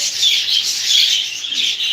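Baska pigeons chirp and squeak continuously, close by and fairly loud, a busy high twittering with no talking.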